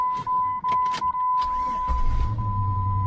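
A car engine starts after a jump starter boost on a completely dead battery. A steady electronic tone and a few clicks come first, then a low engine rumble catches and keeps running.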